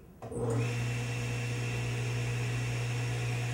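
A table saw in a woodworking shop starts up with a short click and whir, then settles into a loud, steady motor hum with a constant tonal drone that runs on alone.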